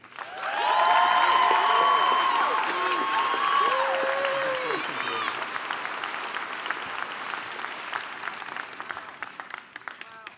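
Loud audience applause at a UC Davis School of Veterinary Medicine commencement welcomes the student speaker, swelling quickly into sustained clapping with some cheering and voices, then gradually thinning out toward scattered claps.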